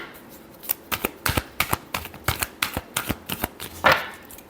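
Tarot cards are shuffled by hand, a quick close series of crisp riffling flutters in a steady rhythm, with no voices.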